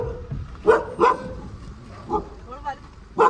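A dog barks in a few short, sharp yips spaced out over a few seconds, close by, amid a noisy background.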